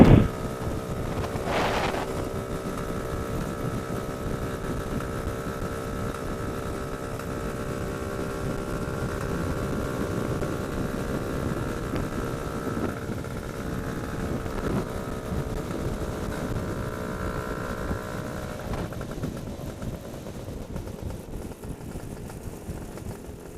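A vehicle powered by a GT300LC customer engine on its first test run cruises at about 48 mph in top gear, giving a steady, even engine drone mixed with rushing wind noise, continuous throughout.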